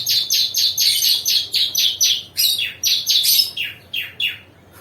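Rapid, bright prinia chirps repeat in quick bursts, a small bird calling loudly and close by with a steady, insistent rhythm.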